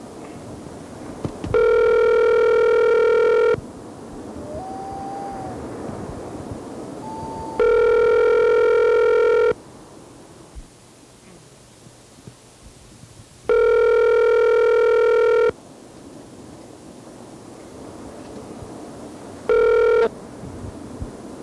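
An old-style telephone rings in long, loud electronic bursts, four rings spaced a few seconds apart, with quieter line hiss and a steady dial tone between them and no talking.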